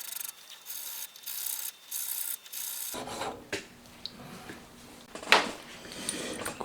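A homemade valve seat cutter for a Honda Monkey engine is sharpened by hand, starting with several even, rasping file strokes followed by scraping and clicking metal handling, close and fairly quiet, with a brief spoken word.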